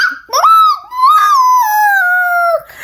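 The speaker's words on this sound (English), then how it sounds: "The dogs are joining in next door barking." Dogs next door howling along rather than barking, one long wavering howl-like cry rising and holding for over two seconds, loud and close with no talk.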